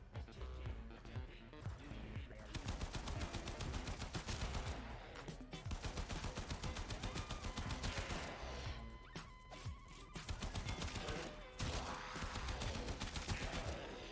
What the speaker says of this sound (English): Bang bang! It's a gun.